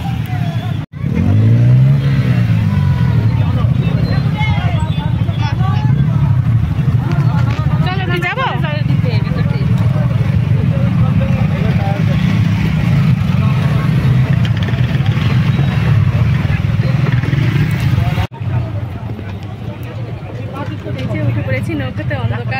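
A passenger boat's engine starts up at a riverside ghat at night and settles into a loud, steady drone, with a crowd babbling and shouting around it throughout.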